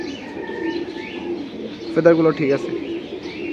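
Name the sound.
pigeons cooing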